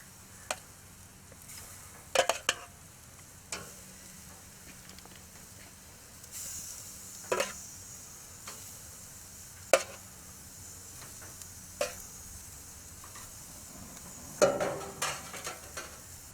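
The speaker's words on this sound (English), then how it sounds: "I'm just going to put those on the grill" Pork tenderloin kebabs on soaked wooden skewers sizzle on a grill, a faint steady hiss broken by sharp clicks and clatters of handling at irregular intervals, with no speech.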